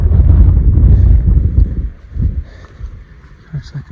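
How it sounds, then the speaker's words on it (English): Wind gusting hard on an exposed stretch of the Colorado Trail above timberline, a loud low rumble buffeting the microphone for the first two seconds, then easing into weaker, uneven gusts. "Don't have the wind blowing on me all the time."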